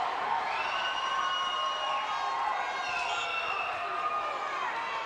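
A volleyball crowd cheers and shouts after a block in an indoor match, a loud, steady roar of many voices that holds for several seconds under commentary.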